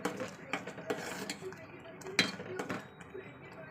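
Cooked semolina being served from a pot into a bowl, with a spoon scraping and clinking against metal in a handful of short, close knocks and scrapes spread unevenly over a low kitchen background.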